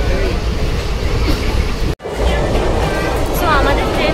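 Interior of the Kolkata–Haldibari Express passenger train in motion, a continuous loud low rumble and rattle of the carriage, briefly cut near the middle, with faint voices in the background.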